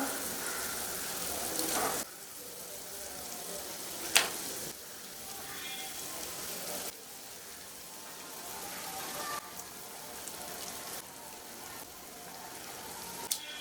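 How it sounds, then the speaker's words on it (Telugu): Pieces of korameenu fish are dropped one by one into simmering tamarind gravy, giving a steady close sizzling, bubbling hiss with a few soft clunks and knocks. "ఈ చేప ముక్కలు నానబెట్టుకున్న దాంట్లో చింతపులుసులో మరుగుతున్నప్పుడు వేయాలి"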